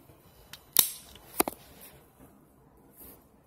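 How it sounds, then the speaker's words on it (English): Clicks of a Keeper ratchet strap, 16 ft by 1 1/4 in, rated 600 lbs, being worked by hand: a few sharp, close ratcheting snaps spread over a few seconds with quiet gaps between them. "That's how it ratchets."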